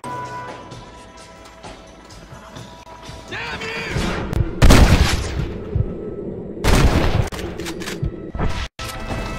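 Gunfire in the Western video game Red Dead Redemption, a mission set in the town of Armadillo: loud, close bursts of shots crack out in two clusters over a steady game ambience, with a short silent gap near the end.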